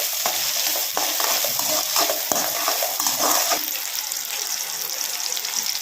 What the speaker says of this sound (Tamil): கடுகு இதெல்லாம் போட்டு வணக்கிக்கோங்க